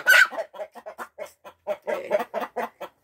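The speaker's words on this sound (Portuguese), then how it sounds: "Pegou a galinha com uma mão só, filmando com uma." A hen just caught by hand clucks agitatedly at close range, a rapid series of sharp, loud squawks and clucks in an uneven rhythm with no talk over them.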